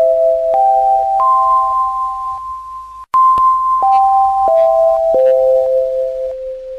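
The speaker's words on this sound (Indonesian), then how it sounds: "bel tanda pergantian jam pelajaran telah berbunyi." A chiming school bell in the video game Sakura School Simulator signals a class change, playing a clear melody of sustained electronic tones falling and rising in two phrases, loud and alone.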